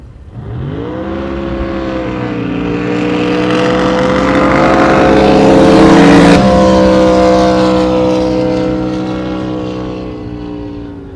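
Drag racing boats at the NJBA Fall Classic, including the High Noon Express running with a Joey Gross motor and Tom Bentley gearbox; loud engines roar and climb in pitch, peak as they pass close, then fade as they run off.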